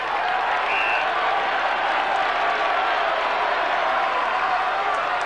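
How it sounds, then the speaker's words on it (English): A packed MCG football crowd at the 1993 Hawthorn versus Melbourne match roars and applauds in a dense, unbroken wash of noise that stays loud and steady throughout. "Crowd getting involved here."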